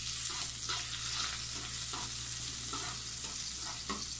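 Garlic sizzles and fries in a pan, a steady bright hiss of hot oil with repeated soft scrapes and stirring taps throughout, fairly quiet and close, with no voices.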